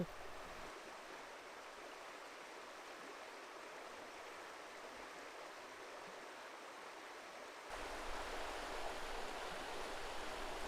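A river burbles past in a steady, continuous wash of flowing water, close and unbroken, growing slightly louder toward the end with no voices.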